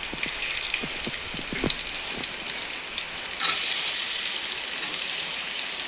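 Chopped onion hits hot oil for a tempering, first with scattered crackles over a steady fry, then erupting into a louder, continuous sizzle that carries on to the end.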